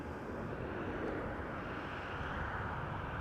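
A Boeing 787 Dreamliner departing a runway at Schiphol, a steady broad jet engine roar heard from a distance, even and unbroken.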